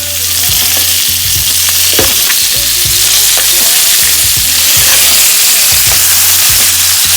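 Dungeness crab legs hit a curry pot and sizzle loudly and steadily in close-up, with a constant hiss of frying broken by occasional clinks and scrapes of stirring.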